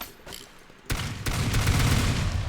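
Hook shotgun firing in the video game Teardown: a quiet lead-in, then a sharp blast followed by another, with dense crackling gunfire and rumbling debris continuing loudly to the end.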